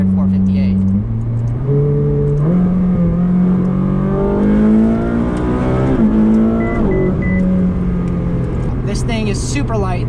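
A 2015 Ferrari 458 Speciale mid-engine sports car is driven hard, its engine revving up through several rising pitch sweeps and gear changes, loud and close from the cockpit, with a voice briefly talking over it.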